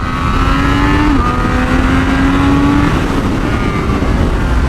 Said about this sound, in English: fully pinned here in 5th gear, down into the braking zone, down 3 gears, nice and easy on the Triumph